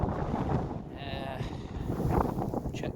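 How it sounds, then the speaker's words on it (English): Strong gusting wind of around 30 mph roars and buffets the microphone at a wild camp in the Lake District, a continuous loud rumble that swells and eases, with talk mixed in. "We're getting about 30 mile an hour winds at the moment."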